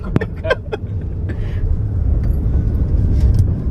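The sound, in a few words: motorbike engine while riding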